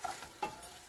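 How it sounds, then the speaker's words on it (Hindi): Mutton browns in a pan with ginger, garlic and onion: a quiet, brief sizzle broken by a few soft stirring scrapes and clicks, with no voices. "इसको अच्छी तरह से भूनते हैं अदरक लहसुन और प्याज के साथ"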